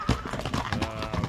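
A horse's hooves clip-clop in a quick, close run of several sharp knocks on hard ground, with faint voices in the background.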